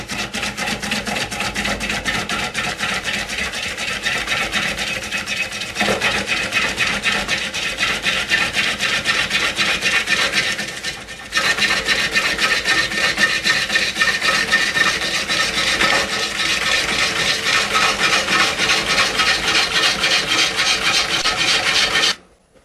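Steady rasping, scraping of a lathe gouge cutting into a very large wooden bowl spinning at about 250 RPM, continuous and close, with a brief dip midway before resuming and stopping abruptly.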